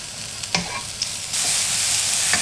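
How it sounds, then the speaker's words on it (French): Vegetables fry in a pan with a little olive oil, a close steady sizzle that swells louder partway through, with a few sharp knocks of a utensil against the pan. "Dans une poêle avec un petit peu d'huile d'olive, on va faire passer les légumes."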